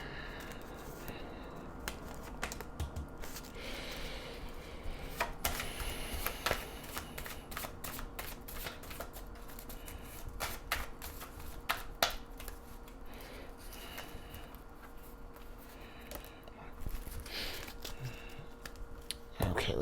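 Tarot cards are shuffled by hand in a close, soft, papery rustle of repeated riffles and slaps that continues steadily over a low background hiss.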